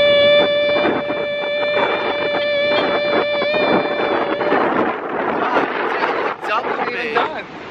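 Strong wind buffeting the microphone on a beach in Santa Monica, a constant rough roar throughout, with people whooping and talking over it.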